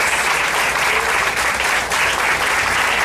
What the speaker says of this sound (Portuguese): Aplauda o Senhor aí, em nome de Jesus.